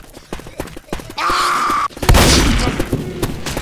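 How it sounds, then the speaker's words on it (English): A smoke rocket goes off in the video game Absolute Zero. A sustained hissing burn is followed by a loud booming blast with a rumbling tail, over low game ambience. "Smoke rocket!"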